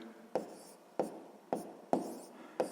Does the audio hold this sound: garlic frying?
no